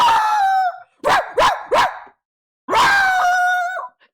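A person vocally imitates a dog, giving a drawn-out howling bark, then three short sharp barks, and after a pause a long, loud howl-like bark, all close to the microphone with no other talking.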